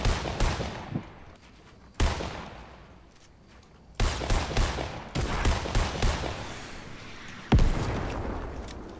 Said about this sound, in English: Oh, shots fired.